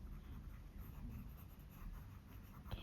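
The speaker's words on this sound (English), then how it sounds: "take your black pencil and put it back in" A black colored pencil shading on paper in an adult coloring book, a soft, continuous scratchy rasp heard close and fairly quiet, with no talking.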